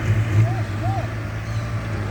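A farm tractor's engine drones steadily at low pitch and moderate distance, while people talk and shout over it.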